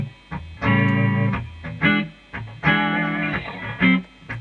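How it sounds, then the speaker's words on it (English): An electric guitar with distortion plays a looped blues riff, bursts of thick, buzzing chords and notes separated by short gaps, loud and close. "Maybe I'll have a little bit of distortion as well."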